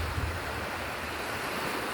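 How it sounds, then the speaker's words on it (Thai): Sea waves breaking on a beach where boats are being launched, a steady, loud wash of surf with wind noise buffeting the microphone, no voices. "วันนี้มีคลื่นนะ เมื่อวานไม่มีนะ"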